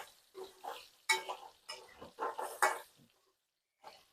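A spoon mixes cooked stuffed ridge gourd (bharwa tori) in a pan, giving several short scraping, squelching strokes up close, then a pause and one last stir, with no voices.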